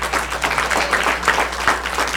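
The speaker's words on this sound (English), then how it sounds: "Let's give them a hand clap." Dense, sustained applause from an audience fills a Black History Program event, a continuous wash of many hands clapping close by.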